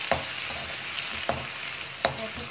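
Chopped garlic sizzles in hot oil in a pan with a steady frying hiss, while a spoon scrapes and stirs in three distinct knocks against the metal.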